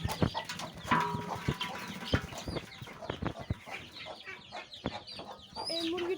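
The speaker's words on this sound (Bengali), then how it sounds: "এর আগে আমি এই মুরগিগুলোকে ছেড়ে দিই।" Chickens clucking close by in a backyard where poultry are being let out, busy overlapping clucks and short calls throughout, with a few sharper squawks among them.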